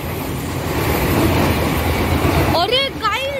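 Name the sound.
Ahmedabad-Mumbai Central Shatabdi Express train passing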